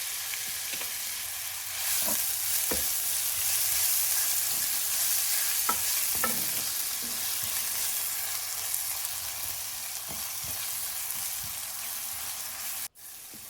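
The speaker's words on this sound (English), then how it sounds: "Add 2 chopped onions and sauté until translucent" Chopped onions sauté in a quarter cup of hot oil in a cooking pan over medium heat, a steady close sizzle broken by scattered stirring scrapes, with no talk throughout.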